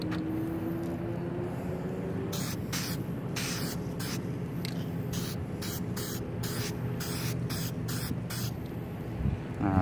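Spray paint is sprayed onto a car, heard as a rapid run of short, close hissing bursts over a constant rumbling background.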